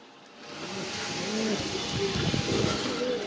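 Pigeons coo at a pigeon farm in Mirpur, soft repeated throaty calls over a steady background hum. The sound builds slightly louder after the first half second.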